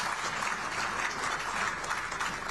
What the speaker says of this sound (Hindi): हमारी तालियों की गर्जना बहुत जोर से हो